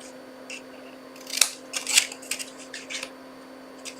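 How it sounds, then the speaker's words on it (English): Scissors snip the corners of papercraft card stock, a quick series of short crisp cuts with two louder snips in the middle, close and fairly quiet, with no talking. "I'm going to cut those corners"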